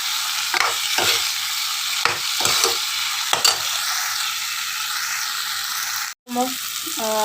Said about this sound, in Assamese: ইয়াত মই এতিয়া এড কৰি দিম আলুখিনি।